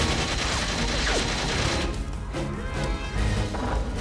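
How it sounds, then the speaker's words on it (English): Three-round burst rifle fire in Goldeneye 007 on the Wii, set in the Severnaya bunker level, comes as dense, loud gunfire and crashing effects mixed with game sounds over a busy, continuous background. "First, here's the three-round burst."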